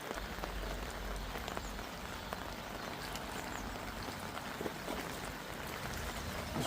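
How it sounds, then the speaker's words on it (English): Steady January rain patters on a surface by the River Mersey, a soft continuous hiss with scattered drops, faint and unbroken throughout. "and it's raining"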